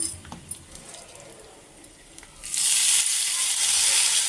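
Asafoetida and chillies sizzling in hot ghee for Madras pongal: after a few light kitchen clinks and taps, a loud, bright crackling sizzle suddenly erupts and holds steady at close range.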